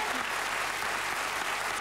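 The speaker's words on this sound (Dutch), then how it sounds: "Karin, we geven jou samen met drie kussen een geweldig applaus." Studio audience applause for a contestant on a 1990 Flemish television show, a dense, steady wash of clapping filling the short stretch at an even level.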